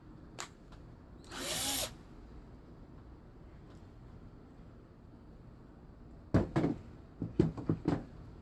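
A power drill whirs once in a short burst on a small piece of pallet wood. After a quiet stretch, a quick series of sharp knocks and cracks follows, like wood being worked.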